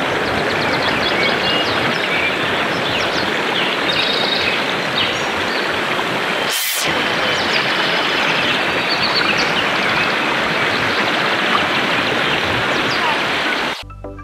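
River water rushing continuously, a loud dense broadband flow heard close up with no talking, briefly interrupted near the middle and cutting off at the end.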